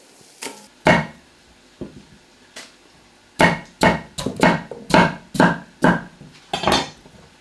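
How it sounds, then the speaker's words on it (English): Sweet potatoes, unpeeled and washed, roughly chopped with a knife on a board: about a dozen sharp, close chops, a few spaced out early, then a steady rhythmic run, nearby and loud. "Now for the sweet potatoes. Again, just roughly chopped."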